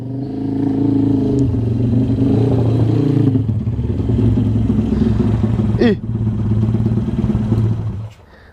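A motorcycle engine idles and revs loudly up close at a repair workshop, a steady, throbbing rumble that cuts out near the end, with people chatting nearby.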